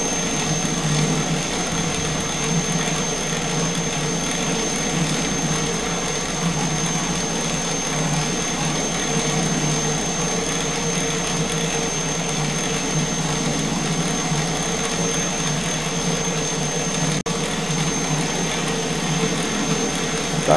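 A modified Braesi 5 kg dough mixer kneads a small batch of dough, giving a loud, steady motor drone with a churning rumble that runs unbroken throughout, with no voices.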